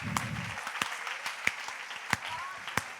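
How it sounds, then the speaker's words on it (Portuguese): Applause for the projection team at a church service, a spread of hand clapping with a few sharp, close claps standing out at a slow, uneven pace over a softer crowd wash, with some talking mixed in. "Uma salva de palmas para a galera da projeção."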